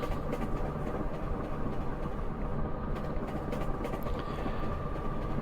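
A Class 325 electric Royal Mail train in Train Simulator Classic runs at speed on a 110 mph stretch near Flitwick, giving a steady, continuous rumble and whine with faint rail clatter, loud and close throughout.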